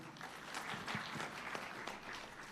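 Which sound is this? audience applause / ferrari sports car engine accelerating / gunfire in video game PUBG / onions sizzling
audience applause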